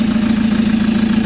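Chevrolet Captiva engine idling steadily right after starting, a loud, even low hum with a constant throb and no voices over it; the vehicle has a turbo and a CMP/MAP fault that leaves it low on power.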